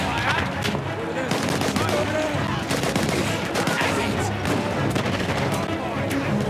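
Dense, continuous gunfire in the World War I shooter Battlefield 1, with overlapping rifle and machine-gun bursts and booms filling a loud battlefield while a voice talks over the din.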